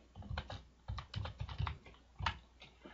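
Rapid typing on a computer keyboard while a range name is entered into a spreadsheet's name box: close, crisp key clicks in irregular bursts with short pauses between them.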